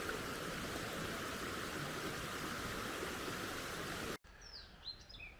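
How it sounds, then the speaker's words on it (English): A pair of dippers by a flowing river: steady rushing water fills most of the clip, then gives way abruptly to near quiet broken by a few short, high chirps. "Pair of dippers just landed it here in front of us."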